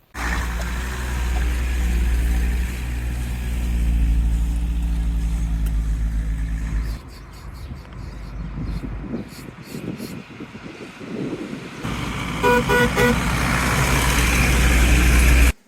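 A vehicle loaded with beehives for moving an apiary to buckwheat fields runs with a loud steady engine drone, drops to a rougher rumble midway, then swells again as it drives off.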